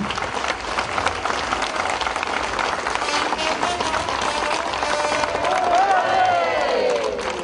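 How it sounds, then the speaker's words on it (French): An audience at a Pentecost Rosière crowning applauds the young woman honored, a dense steady wash of clapping and cheering throughout, with a voice rising above the crowd near the end. "Je vous prie de l'applaudir et de la féliciter"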